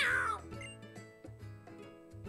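Cat Pokémon cry from the video game Pokémon Sun: a short, loud meow opening the clip, followed by game music with no talk.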